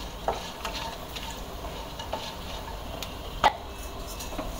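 Star anise, cinnamon and cardamom fry in a pan with a low, steady sizzle, broken by a few light clicks from stirring.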